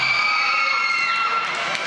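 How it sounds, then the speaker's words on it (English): A crowd cheers at a roller derby bout. The steady wash of cheering and whistling is heard from the stands, with a bright tone sustained through it. "You can hear them cheering all the way back in Walla Walla."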